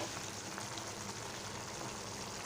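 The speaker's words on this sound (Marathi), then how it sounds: "अमूल बटर घालत आहे लहान दोन चमचे" Amul butter, about two small spoonfuls, sizzles in a pan while starting a Malvani-style tomato bhaji, a steady soft frying hiss with faint crackle throughout, quiet and close, with no talking.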